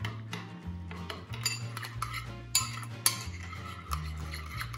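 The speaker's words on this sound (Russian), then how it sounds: "Ароматную заправку перемешаем." Spoon stirring a salad dressing of salt, sugar, black pepper and mustard in a bowl, with repeated clinking and scraping strokes against the dish, fairly close and steady, no talking.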